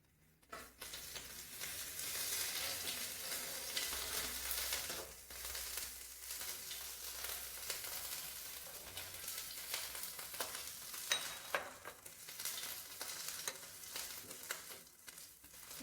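Ginger and green chilli paste fries in a pan over asafoetida on low gas. It makes a soft, continuous sizzle with intermittent stirring scrapes, fairly quiet and with no voices.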